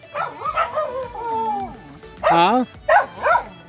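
Puppies yelp, whine and bark up close at a neighbor's gate in Jimalalud, Negros Oriental, Philippines, in rising, wavering cries and short bursts. Someone briefly speaks over them.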